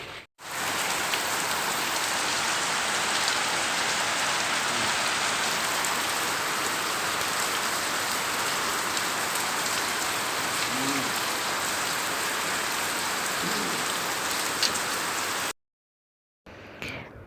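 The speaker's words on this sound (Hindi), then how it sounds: "सुबह उठते ही इतनी शदीद बारिश थी" Heavy morning rain pours down in a steady, dense hiss of drops on surfaces, unbroken and fairly loud throughout, with no voices, until it cuts off abruptly near the end.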